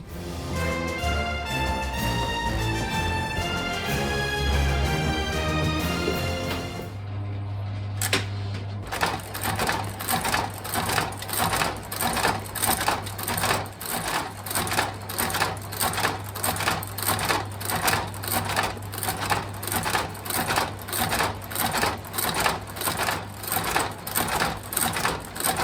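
A sole stitching machine runs in a shoe repair workshop, sewing through the new Dainite sole of a Ted Baker shoe with a fast, steady mechanical clatter. A low motor hum sits underneath, and music plays over the first few seconds.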